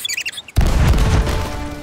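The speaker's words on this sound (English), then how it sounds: "Well, I believe that now is the perfect time to use these cannons." Booming ship cannon fire in the pirate video game Sea of Thieves: a loud, heavy blast after a short lead-in, followed by a long rumbling roar that slowly fades.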